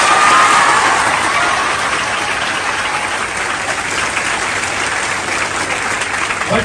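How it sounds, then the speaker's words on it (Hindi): Loud, dense audience applause at a crowded celebration event for UPSC students, sustained and steady throughout with a faint murmur of crowd under the clapping. "तालियां बजाइए।"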